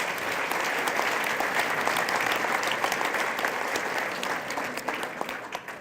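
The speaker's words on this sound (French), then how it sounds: "Vous pouvez quand même les applaudir." A gala audience gives sustained applause, a dense, steady wash of many hands clapping that tapers slightly toward the end, with no talking over it.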